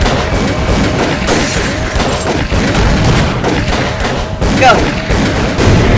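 Gunfire in Call of Cthulhu: Dark Corners of the Earth, rapid dense volleys of shots and booms that run loud and nearly continuous, with a voice briefly shouting over them.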